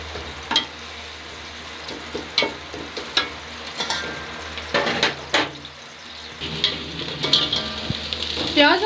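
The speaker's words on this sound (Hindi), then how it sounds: "प्याज को हम जो है ब्राउन कर लेंगे।" Onions fry in oil for beef pulao, a steady sizzle broken by repeated scraping stirs of a spoon against the pot, close and fairly loud.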